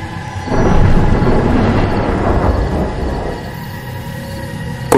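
A deep rolling rumble of thunder swells and fades over steady heavy rainfall, loud and enveloping, with no voices.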